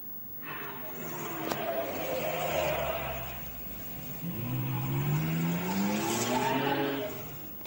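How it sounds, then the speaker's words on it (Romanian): A car drifts in circles around a town-square Christmas tree with passengers aboard, tires squealing and skidding in long sweeping runs as the engine revs rise and fall, loud and close throughout. "Având câțiva pasageri în mașină, acesta a făcut drift în jurul pomului."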